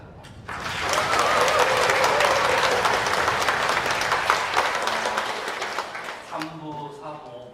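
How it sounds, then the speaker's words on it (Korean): Congregation applause at a Korean church thanksgiving service for a pastor's installation, loud sustained clapping from a large crowd that fades after about six seconds as a voice begins speaking. "박수."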